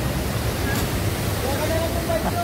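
A river flows steadily nearby, a continuous broad rushing wash that stays even and loud throughout the short stretch, with faint voices in the background.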